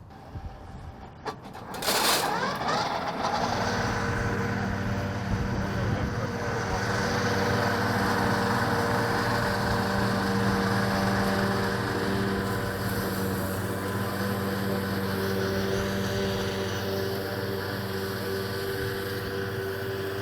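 Kverneland grass mowers on a tractor at a grass demo day, starting up after a brief clatter and settling into a loud, steady droning whine with humming engine tones, close by and with no talking.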